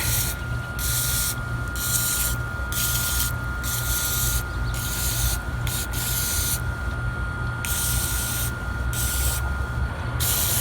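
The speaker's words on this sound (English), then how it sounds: "Just take some brake cleaner." Brake cleaner sprays from an aerosol can onto a removed differential from a 1996 Nissan 240SX S14, loud hissing bursts in a series of short and longer blasts with brief pauses, steady background hum beneath.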